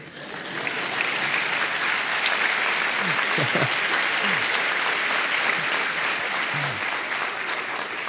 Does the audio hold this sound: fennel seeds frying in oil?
no